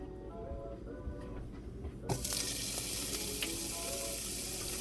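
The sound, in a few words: shrimp frying in a pan for MAMA Pad Thai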